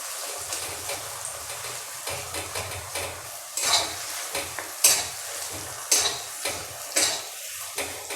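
Potatoes frying in oil are stirred with a utensil, producing a steady sizzle broken by repeated scraping and clinking strokes against the pan, close and fairly loud, with no talking.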